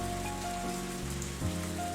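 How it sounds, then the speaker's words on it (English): Steady rain falls and patters on the ground in the visual novel ONE: Kagayaku Kisetsu e, a dense continuous wash under faint, sustained background music. "The strengthening rain threatens to drown out her voice."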